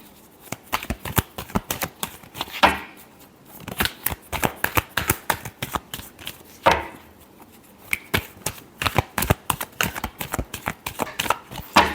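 Tarot cards being shuffled by hand in repeated quick riffles and flicks, a dense run of crisp papery snaps with brief pauses, close and fairly loud with no talking.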